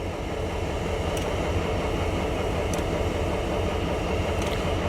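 An orange EJ&E SD38-2 diesel locomotive working a local job gives off a steady, loud engine rumble with broadband rail noise, heard close and continuous throughout.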